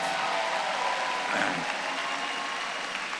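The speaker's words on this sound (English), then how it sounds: "please give me one more round of applause for all of our graduates and undergraduates" A large crowd applauds the graduates and undergraduates at a university's 155th annual commencement ceremony, a dense, steady wash of clapping that fills the hall at an even level throughout.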